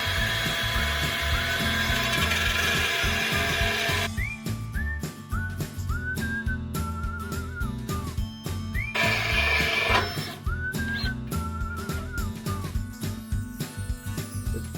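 An old diamond blade bit grinds while relocating range hood switches, a steady harsh whine that turns into stop-start rasping and squealing pitch glides as the cutting catches and releases.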